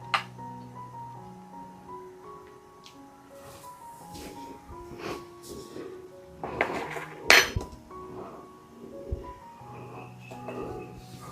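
A spoon stirs turmeric powder and salt into boiling water in a cooking pot, with scattered metallic clinks and scrapes, some sharper knocks, all fairly quiet and close.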